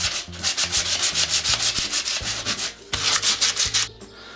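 Steady back-and-forth rasping of sandpaper on wood during a loft ladder installation, quick regular strokes up close with a short pause midway before the scrubbing resumes.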